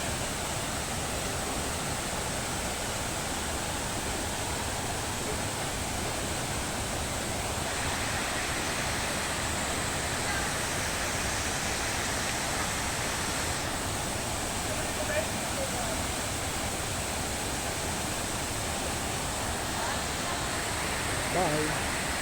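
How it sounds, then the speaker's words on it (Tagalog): Puray Falls, a waterfall in Montalban, Rodriguez, Rizal, roaring as a dense continuous rush of falling water, steady and loud for the whole stretch with no pauses. "Yan ang falls. Puray Falls."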